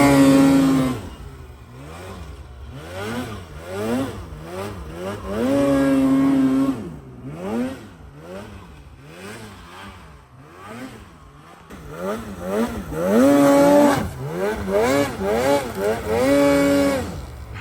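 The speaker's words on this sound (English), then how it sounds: "we've got a real nice head wall that, well, we'll see if one or both of these snowmobiles will go up and over it." Polaris Pro and Khaos snowmobile engines climbing a creek head wall, loud two-stroke revving that rises and falls repeatedly, with strong surges of throttle and brief easing between pushes.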